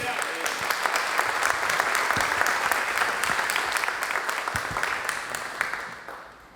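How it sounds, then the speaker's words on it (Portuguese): A church congregation at a Sunday celebration service applauds, dense clapping from many hands that swells early, stays full for several seconds, then thins and fades away toward the end. "Você pode aplaudir ao Senhor por isso?"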